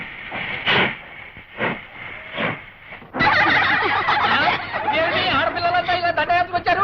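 People talk in short bursts, then a loud, broad train hiss and rumble rises suddenly and carries on steadily, with voices still heard over it.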